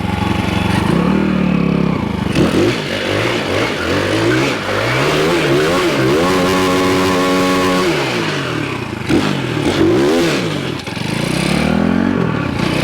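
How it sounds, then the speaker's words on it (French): A car engine revs hard and repeatedly, climbing and falling in loud rising sweeps, as the driver heats the tyre before a run of twenty emergency stops; a faint clatter sits under the roaring engine, with no talking. "je chauffe le pneu, tu vois, pour qu'il soit bien chaud."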